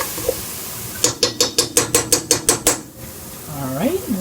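A tablespoon scooping sofrito out of a jar, about eight quick, evenly spaced scraping clinks, close and loud, followed by a short voice.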